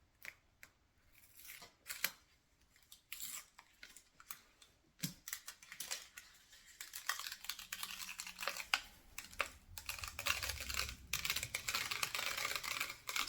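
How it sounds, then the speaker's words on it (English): Tape and foil peeled slowly off a cooled sublimation blank, giving scattered sharp crackles and ripping bursts that grow denser and rougher toward the end, close up with no talking. "Then we carefully start removing our tape and our foil."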